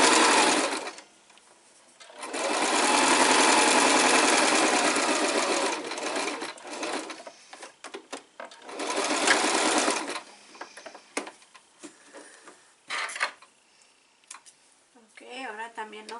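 A sewing machine stitches fabric in two long, steady whirring runs separated by pauses, with softer clicks and handling noises afterward and a person speaking quietly between bursts.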